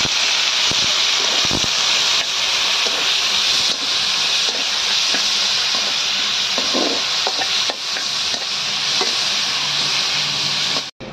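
Chopped onions and tomatoes frying in oil with whole dried chillies, a loud, steady sizzle and hiss that persists throughout, broken by occasional clinks and scrapes of stirring.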